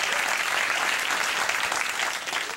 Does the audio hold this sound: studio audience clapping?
yes